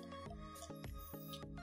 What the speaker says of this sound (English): just find a way to fill it with water. I'm using this large syringe and I'll be slowly filling it